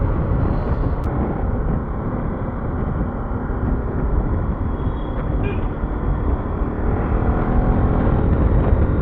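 A loud, steady motorcycle engine roar through a burst exhaust pipe, with rumbling road noise, runs unbroken through the whole stretch, close to the listener.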